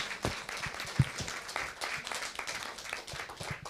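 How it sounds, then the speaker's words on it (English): Conference audience applauds its presenters, a steady wash of many hands clapping at moderate distance, even and sustained across the whole stretch with no pauses, and no voices over it. "extend a warm round of applause for our presenters today"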